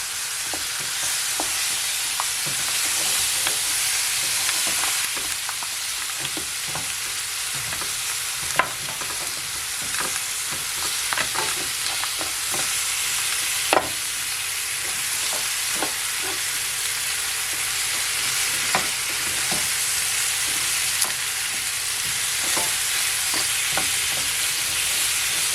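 Cow foot for Jamaican curry sautés in a pot, a steady loud sizzle and crackle with scattered sharp pops and occasional clinks, continuous and close without any voices.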